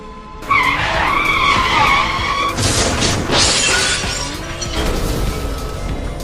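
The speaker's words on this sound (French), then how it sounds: "Oh non, je ne trouve pas le frein. La voiture est hors de contrôle." A cartoon car in an animated drama skids with a long tire squeal, then crashes with a loud burst of shattering and breaking, followed by rumbling debris, all close and loud with no talk.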